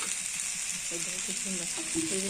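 Taro stolons fry with dried fish in oil in a pan, making a steady, close sizzling hiss, with a faint voice murmuring underneath.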